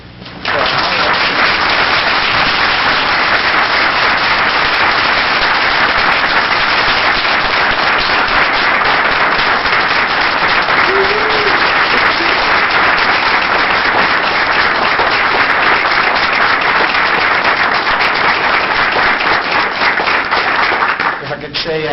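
A packed audience at a city council special meeting breaks into sustained, loud applause that fills the room without a break for about twenty seconds, easing slightly at the very end.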